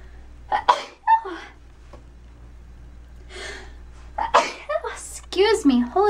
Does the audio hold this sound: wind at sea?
no